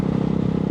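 A Ducati Hypermotard 698 Mono single-cylinder engine, about 70 horsepower, idles with a loud, close, rapid thudding pulse, brief and without talk.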